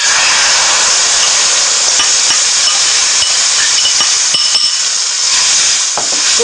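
Spice paste for saag gosht frying in hot oil, a loud, steady hiss and crackle that holds without a break, close up, with no voices.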